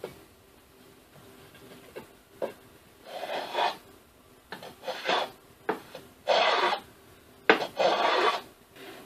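Rough rasping strokes of a hand plane shaving wood for a cane sword, coming in irregular bursts with short pauses between, close by and moderately loud.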